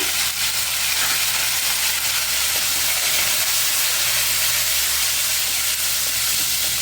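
Mustard seeds, cumin, urad dal, fenugreek and dried red chillies frying in hot oil for a sweet potato curry, giving a steady, close, even sizzle and hiss that runs without a break.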